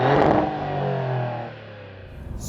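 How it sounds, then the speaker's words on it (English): Detuned Nettuno twin-turbo V6 of a 2024 Maserati GranTurismo heard from outside, a loud rev that swells briefly then falls away as the car pulls off into the distance. "this is a detuned Nettuno engine, which is the same one that's in the MC20"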